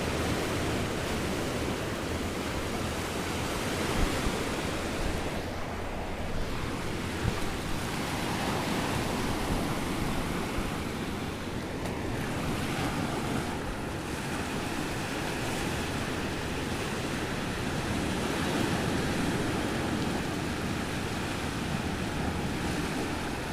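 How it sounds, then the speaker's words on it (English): Ocean waves roll onto rocks in a continuous broad wash of surf with wind across the microphone, steady and loud throughout, with no talk. "the roll of the ocean"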